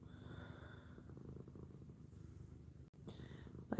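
A cat purrs close by in a steady, low, rumbling rhythm that carries on with no voices over it.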